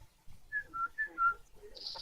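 A person whistles an imitation of a bird call: four short, clear whistled notes in an even rhythm, close and fairly loud, with a brief hiss and rustle at the end.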